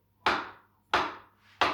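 Peeled bananas are cut and broken down with a knife on a chopping board for pancakes: three sharp, evenly spaced knocks, each fading quickly, close and clear with no talk.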